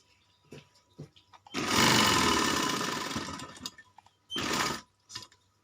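A sewing machine runs a side seam on a child's kalidar kurta: one long, loud whirring run of stitching, a few quiet clicks before it, then a second short burst near the end.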